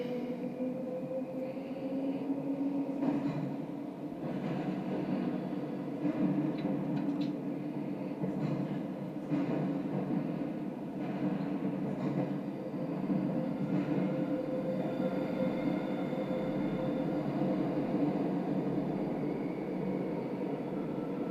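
Bakerloo line London Underground train pulling away from a station in a train simulator game, a steady continuous rumble of motor and wheels with slight wheel slip, running loud and unbroken throughout.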